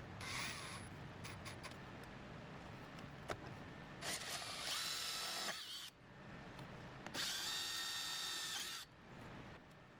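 A power drill drives screws into tunnel trim on a Humvee, with two sustained whirring bursts of the motor separated by pauses, handling clicks and light rubbing in between, close and alone without speech.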